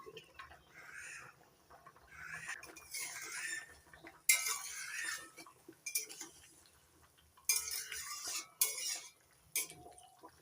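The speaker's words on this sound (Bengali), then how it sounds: "এবার ঢাকনা তুলে নিচ্ছি" A lid comes off a cooking pot of drumstick and potato curry, with several close metallic clinks and clatters in bursts between quiet stretches, plus faint bubbling and rustling.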